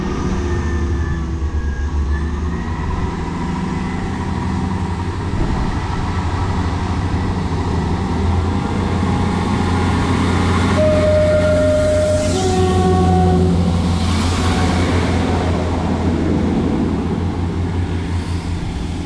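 A South Western Railway Class 158 diesel unit pulling out of Bradford-on-Avon station toward Bristol, a steady loud engine drone with tonal whine rising and shifting as it departs.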